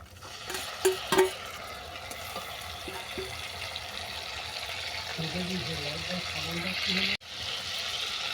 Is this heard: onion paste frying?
yes